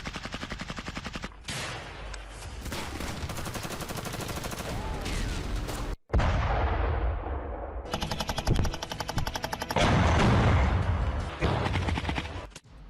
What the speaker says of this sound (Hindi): दोनों सेना के बीच जबरदस्त गोलीबारी